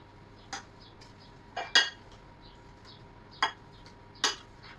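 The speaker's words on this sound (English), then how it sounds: "Now you're going to mash your potatoes." Boiled potatoes mashed with a potato masher in a pot give a few sharp, quiet metallic clinks at irregular intervals over a faint background, with no talking.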